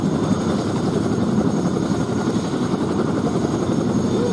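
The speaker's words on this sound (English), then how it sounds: "the Model 75 biplanes like you see here that were produced" A Model 75 biplane engine drones at the Duxford air display, loud and steady throughout with no break.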